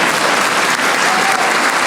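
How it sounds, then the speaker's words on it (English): Audience applause fills an awards ceremony honoring small businesses, a steady, dense wash of clapping hands sustained throughout at close, full volume with no voices standing out. "Oh, give her a better round of applause."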